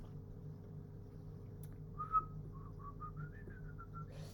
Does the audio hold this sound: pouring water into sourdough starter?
no